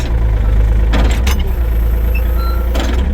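A Huayee HY35C mini excavator's engine idles low and steady, a loud continuous close rumble with brief mechanical clatters and hisses rising over it.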